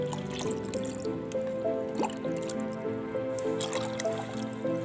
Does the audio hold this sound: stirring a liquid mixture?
yes